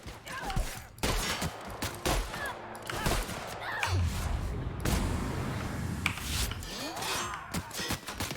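Shotgun blasts in the video game The Outer Worlds, several sharp loud bursts spread irregularly through a busy combat soundscape with other effects.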